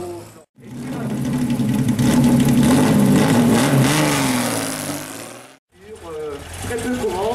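A 1960 Berkeley T60 with a rear-mounted four-cylinder engine drives past at a road race, its engine rising loud and buzzing close by before fading, with brief talk at the edges.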